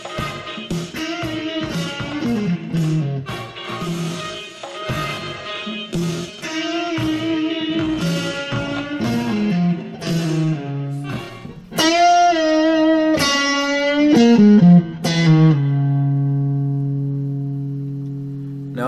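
Fender Stratocaster electric guitar plays a guitar solo from a rock song, with fast bluesy bent and picked notes, effects-laden tone, ending on a sustained ringing note, loud and alone.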